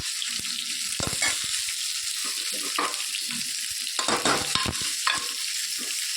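Chili pepper and cluster bean curry stirred in a pan: a spoon scrapes and knocks in irregular strokes over a steady close sizzle, with no talking.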